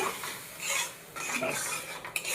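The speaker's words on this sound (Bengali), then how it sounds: "ডালটা দিয়ে দিলাম, একটু নাড়াচাড়া করবো।" Dal (lentils) being stirred in a metal cooking pot, with a spoon scraping and clinking against the sides in a few uneven strokes, close and clear.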